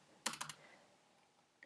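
A short burst of three or four quick computer keyboard keystrokes while HTML code is being typed, close and crisp, followed by near silence and one faint final tap.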